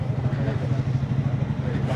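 A TVS Apache RTX 300 motorcycle running steadily at close range, its mid-pitched engine a constant drone with a low rumble and no clear revving, after its first service.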